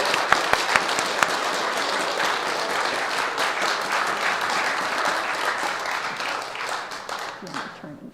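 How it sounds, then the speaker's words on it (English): Wedding guests burst into loud, sustained applause and cheering right after the couple is pronounced husband and wife, a dense wash of clapping with sharp individual claps early on, fading slightly near the end. "And the crowd roars."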